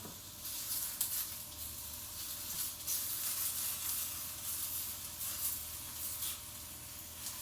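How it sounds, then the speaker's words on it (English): Eggplant and other ingredients sizzle in a hot pan, a steady, moderately faint hiss that swells and eases slightly throughout with no talking. "You can hear them sizzling, right?"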